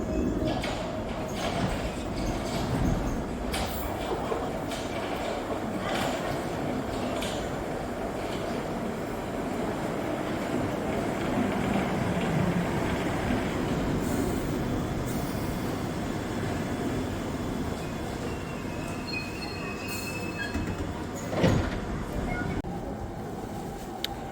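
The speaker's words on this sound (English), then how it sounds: "I'm travelling on the Heathrow branch of the Piccadilly Line today" A London Underground Piccadilly Line train running on the Heathrow branch near Hounslow Central, a steady rumbling roar of wheels and carriage with occasional squeals and clunks, heard from inside throughout.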